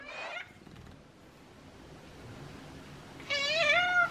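A house cat meows twice indoors: a short, clear meow at the start, then a longer, wavering meow after a quiet pause, both close and distinct.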